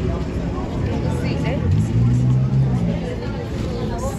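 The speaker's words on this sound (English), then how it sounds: "this is the bus coming" A city bus on Route 111 pulls in with a loud, steady engine rumble and a rising low drone, while nearby background voices chatter throughout.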